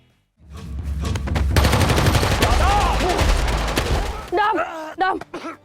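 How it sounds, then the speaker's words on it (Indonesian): Gunfire in a film as Colonel Maeda shoots at Yada, a loud dense burst of rapid shots lasting several seconds and then fading, followed by shouting voices. "Kolonel Maeda justru datang dari sisi yang lain untuk menembaki Yada"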